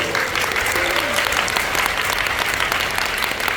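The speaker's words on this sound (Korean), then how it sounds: "박수 한번 쳐주세요." An audience at a business education seminar applauds steadily and loudly for several seconds, a dense wash of clapping with faint voices mixed in and a brief tonal voice-like trace early on.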